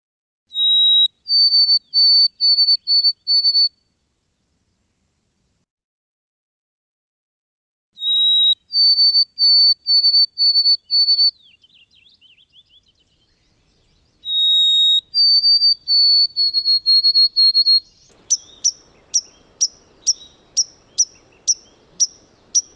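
A white-throated sparrow's whistled song rings out three times, each a clear opening note followed by a run of evenly repeated higher notes, and then a quick series of sharp, evenly spaced chirps closes the sequence against silence.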